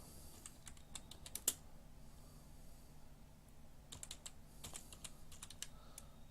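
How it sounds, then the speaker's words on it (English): Fingers tap on a computer keyboard in quiet, irregular bursts of clicks, with a few louder keystrokes and short pauses over a faint background hum. "if you check here, like I'm typing"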